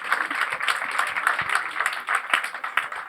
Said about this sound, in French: Donc vous pouvez applaudir, s'il vous plaît.